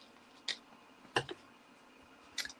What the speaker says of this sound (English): Just going to snip those bits off.